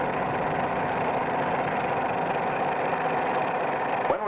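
A training airplane's engine drones steadily and loudly with a slow, gradual shift in tone while the nose comes up to a climbing attitude, with no voices over it.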